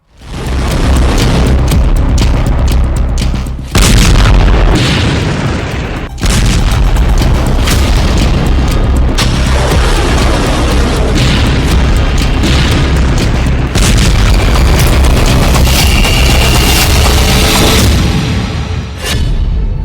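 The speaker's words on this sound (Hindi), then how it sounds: "खार्किव में पुतिन की मिसाइलें गिर रही थीं" Missile strikes hitting Kharkiv: loud, sustained rumbling blasts with sharp booms breaking through the roar, near and overwhelming, with no talk.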